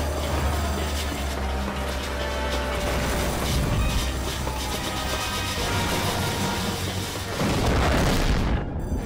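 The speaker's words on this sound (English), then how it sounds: "I guess I got killed by an explosion" A heavy explosion rumbles through a Pearl Harbor battle in the Medal of Honor Pacific Assault video game, a dense, sustained roar with clattering debris and mechanical noise that swells again near the end.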